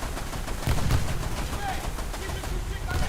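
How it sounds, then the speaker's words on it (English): Artillery strike in a naval combat game off the French coast: a brief, loud cluster of thudding blasts and crackling gunfire, busy and unbroken for a few seconds. "I do not have the HP to go through an artillery strike"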